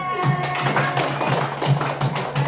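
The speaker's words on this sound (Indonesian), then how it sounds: "Beri tepuk tangan." Small group of children in a classroom clapping hands, a loose cluster of sharp claps with an uneven rhythm, fairly close, while a voice lingers faintly underneath.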